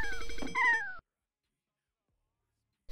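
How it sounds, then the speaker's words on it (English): A video game cat lets out a short, clear meow, close and alone, over a soft musical backdrop that cuts off abruptly into silence. "Was that a cat?"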